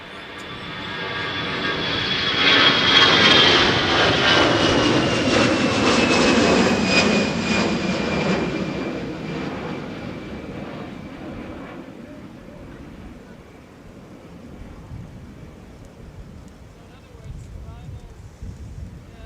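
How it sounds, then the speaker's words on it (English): Delta airliner taking off from Minneapolis–St. Paul Airport, its jet engines building to a loud broad roar with a rising whine, then receding into distant rumble and wind noise. "And here is Delta 1053 to Raleigh-Durham International Airport."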